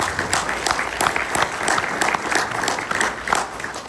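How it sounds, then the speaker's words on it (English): An audience at a school board candidates debate applauds steadily, with dense, even clapping from a crowd that holds at one level for several seconds. "I just would like to give another round of applause for all these folks."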